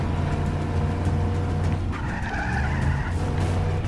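Handbrake skid of a car in Just Cause 3, a loud tire squeal rising over a steady revving engine drone, up close and continuous.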